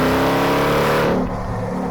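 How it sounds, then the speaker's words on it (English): Hennessey Mammoth 1000 pickup truck engine accelerating hard on a track, a loud, sustained near roar with steady harmonic drone that drops off abruptly partway through. "The engine is nuts. The sound it makes is brilliant."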